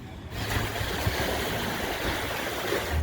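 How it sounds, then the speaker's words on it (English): Small waves lapping and splashing around a kayak near the Centre Island Pier off the Toronto Islands, a steady close wash of water with light chop and no talk. "It's not extremely choppy or anything, but there definitely are some waves."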